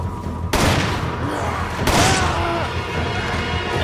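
Gunshots in Resident Evil 5, fired at an electrified post: two loud, sharp bursts, each trailing into a crackling, noisy tail, close and dominant throughout.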